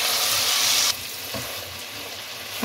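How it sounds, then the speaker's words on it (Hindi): Garlic, ginger and green chillies fry in hot oil with salt while being stirred, a loud steady sizzle that suddenly drops quieter partway through, with brief scraping stir sounds and no talking. "अब इसको मिक्स करें ताकि लहसुन अदरक भी इसमें भून जाए अच्छे तरीके से।"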